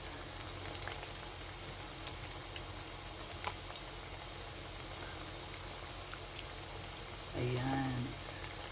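Pork bola-bola meatballs pan fry in hot oil, giving a steady, fine crackling sizzle like light rain that runs throughout, with a brief voice near the end.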